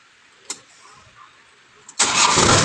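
A Kubota harvester engine turns over and catches, loud and close, settling into a steady running roar after a couple of faint clicks beforehand.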